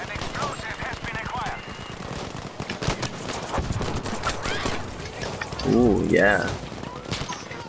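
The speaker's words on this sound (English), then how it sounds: "this is that fucking bolt action rifle from Red Dead" Rapid cracks of gunfire from a bolt action rifle, like the one in Red Dead, ring out in a video game firefight, with someone talking briefly over the shots.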